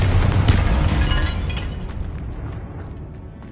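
A fire-blasting Confringo spell explodes in a Harry Potter video game, a loud close burst with shattering crackle that decays into a fading rumble.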